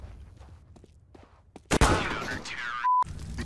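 Gunfire in the video game CS:GO: a sudden loud shot burst with ringing tail after quiet footsteps and faint activity, followed by a short electronic tone.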